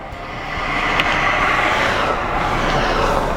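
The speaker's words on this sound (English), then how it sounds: "As soon as these cars go by, we'll give it a shot." A steady broad rush of road noise as a car goes by, loud and near, with a faint hiss of wet pavement.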